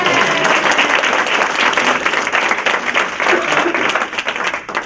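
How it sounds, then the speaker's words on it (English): Audience at a geek comedy show applauds a performer named Dave: a dense, sustained wash of clapping from a sizable crowd, steady and loud for the whole stretch, with some murmured voices underneath. "a round of applause for Dave"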